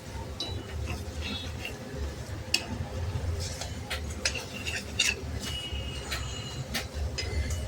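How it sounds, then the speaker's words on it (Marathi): A spoon keeps stirring semolina roasting in a pan over a low gas flame, with soft scraping and light metallic ticks over a steady low hiss. "सतत आपल्याला हलवत राहायचं आहे मंद गॅसवर"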